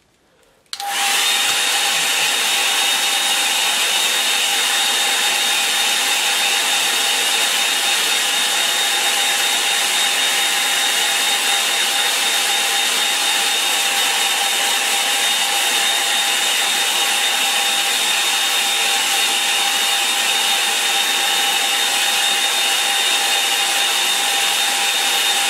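A hair dryer switches on abruptly and blows continuously at close range over a wet watercolour painting, giving a loud, even whooshing hiss with a steady whine that holds unchanged for the whole stretch.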